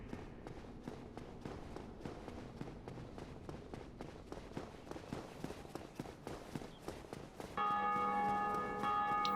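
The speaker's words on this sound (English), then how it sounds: "And the bell rings again, as another player has defeated the Gargoyles." The great bell in Dark Souls rings out after the Bell Gargoyles fall, a loud sustained metallic toll that arrives late, following several seconds of clanking footsteps and rhythmic thuds.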